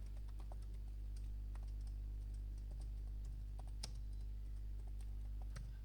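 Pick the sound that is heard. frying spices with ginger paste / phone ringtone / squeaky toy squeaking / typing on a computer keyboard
typing on a computer keyboard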